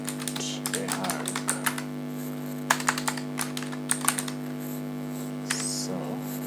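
Keys on a computer keyboard tap out text in irregular quick bursts, close but soft, over a steady electrical hum, with a voice speaking faintly in places.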